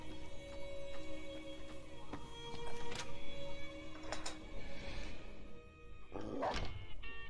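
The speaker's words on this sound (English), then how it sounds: "Don't worry, she won't bite unless I tell her to. Okay. Nice doggy." A dog barks in the video game Fallout New Vegas, a few scattered yips and barks over a steady game soundtrack and ambient hum, moderately close, with a louder burst near the end.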